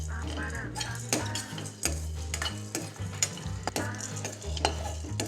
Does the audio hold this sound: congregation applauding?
no